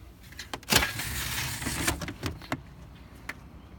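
Cargo cover in a 2010 Volvo V70 wagon pulled out and retracted, giving a sharp snap followed by a sustained rustling slide and a few clicks near the end, loud and close with no talk.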